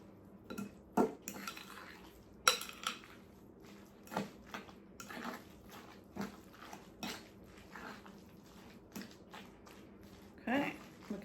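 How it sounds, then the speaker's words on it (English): A spoon stirs a seasoned mixture of salt and pepper in a bowl while preparing Thanksgiving dinner, giving sparse, irregular clinks and scrapes against the dish over a quiet background. "now you're gonna stir this all together"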